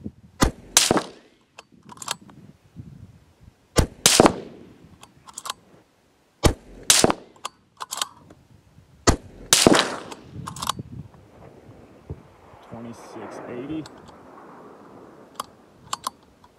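Shots from a 224 Valkyrie rifle firing factory Hornady 88 grain ELD Match ammunition at long range, heard as several sharp, loud cracks at irregular intervals, with quieter clicks and rustling between them.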